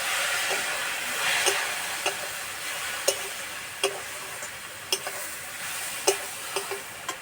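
A little water added to chilli and turmeric powder frying in a pan, giving a soft, steady sizzle broken by sharp clicks and taps of a spoon on the pan, with no talk.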